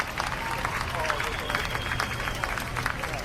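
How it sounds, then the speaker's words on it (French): Residents of Ciney applaud as a new church spire is set in place, a dense, steady burst of crowd clapping that carries evenly from start to finish, with a faint murmur of voices beneath it. "7 ans plus tard, les Cinassiens applaudissent la pose du nouveau clocher."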